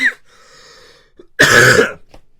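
A short throaty cough near the start, a faint tonal hum, then one loud, harsh cough up close.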